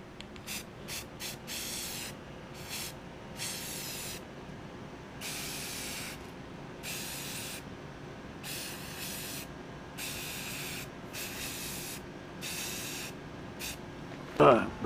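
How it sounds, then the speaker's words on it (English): Repeated bursts of white spray paint from an aerosol can coating cabinet brackets during a DDR arcade cabinet restoration, about a dozen short hissing blasts of uneven length with brief pauses between them, close and fairly loud over a steady low background hum. "maybe this will actually work out for spraying the brackets"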